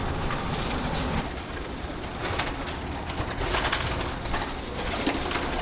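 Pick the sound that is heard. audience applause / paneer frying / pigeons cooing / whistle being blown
pigeons cooing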